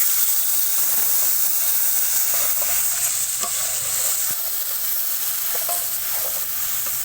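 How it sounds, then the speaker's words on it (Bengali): Ground ginger, cumin, onion and garlic paste sizzles loudly in hot oil left from frying pangas fish, a steady dense hiss with faint stirring clicks throughout. "এই তেলের মধ্যে এখন আমি একসাথে বেটে রাখা আদা জিরা পেঁয়াজ রসুনগুলা দিয়ে দিব"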